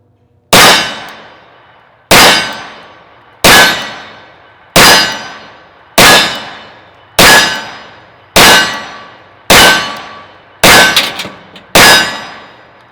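Ten sharp, loud 10mm gunshots from a Tanfoglio Witness Elite Match pistol fired one at a time at a steady pace, each ringing out with a quick decaying echo, no talking.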